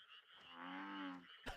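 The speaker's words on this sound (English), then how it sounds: "Just you, your opponent, and the sound of frogs." A frog gives one drawn-out, rattling croak lasting about a second, close and clear, followed by a short thump, in a quiet nighttime setting inside a video game.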